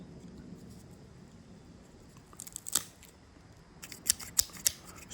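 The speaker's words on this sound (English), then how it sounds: "All right, let's get this cigar cut. I'm sticking with my straight cuts." A straight cigar cutter snips a Padron 4000 Maduro Toro cigar, one crisp click near the middle followed by a quick cluster of three sharp metallic clicks, close and clear against quiet room tone.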